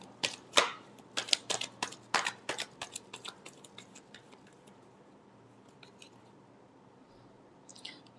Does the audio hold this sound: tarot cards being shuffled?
yes